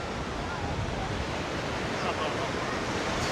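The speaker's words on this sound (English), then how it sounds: "Yeah, the waves aren't too bad today." Steady wash of ocean surf at My An Beach in Da Nang, Vietnam, a continuous broad roar with no distinct breaks, heard alone and fairly faint, mixed with some wind.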